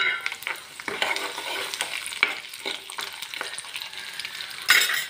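Cashews and garlic crackle and sizzle in plenty of hot oil with chana dal, peanuts, urad dal, cumin and mustard seeds for a tempering, with a steady frying hiss, scattered pops and a louder burst near the end, no voices.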